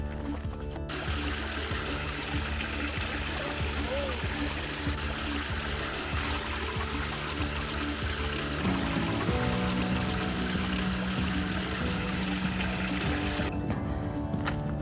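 Stream water trickling and pouring steadily on a detour for water along the Appalachian Trail approach trail near Amicalola Falls, a continuous close-up flow with faint tonal hum mixed in.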